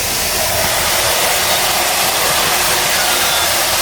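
A mixer grinder runs at full power, grinding ginger for a ginger drink. It makes a loud, constant whirring roar that stays steady throughout.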